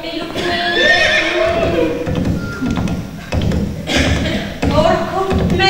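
A horse whinnies loudly and close by, with several rising neighs, light hoof clops and people talking over it at an outdoor event in Casaleone.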